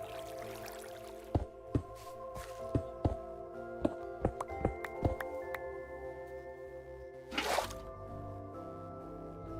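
Minecraft water placed in the FTB Evolution modpack, a string of sharp drippy clicks in steady succession followed by a brief splashy gush, with a voice briefly counting.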